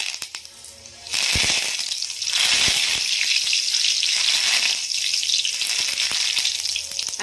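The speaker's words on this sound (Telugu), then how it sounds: "దొండకాయ ముక్కలను కూడా మనం వేసుకొని ఫ్రై చేసుకోవాలి." Ivy gourd pieces fry in hot oil, a steady loud sizzle that swells after the first second and holds with a dense crackling hiss, with occasional clinks of a utensil against the pan.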